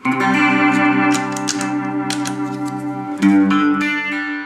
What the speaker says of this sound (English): the way I use a Leslie, I like to step on the speed control constantly